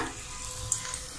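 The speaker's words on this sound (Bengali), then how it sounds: "তাহলে ভাজা হয়ে গেল আমার মাছ পিঠা" Fish-shaped pitha frying in hot oil in a wok, a steady soft sizzle with faint crackles over a brief moment, no voices.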